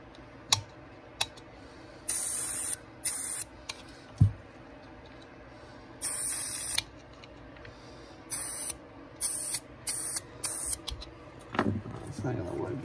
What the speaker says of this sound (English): I need to use the carb cleaner